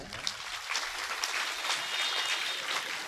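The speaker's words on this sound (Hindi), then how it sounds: "एक बार ताली बजाएं।" A crowd at a live devotional Devi Bhagwat katha claps together, a dense, steady patter of many hands lasting several seconds.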